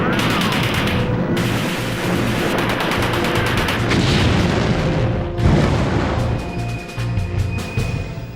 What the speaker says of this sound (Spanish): Se inició un tiroteo desde los edificios de la otra orilla.